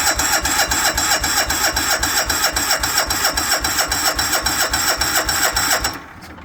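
A garden tractor's small engine cranking with the choke on and a little throttle, a loud, steady, rhythmic chugging up close that cuts off abruptly near the end.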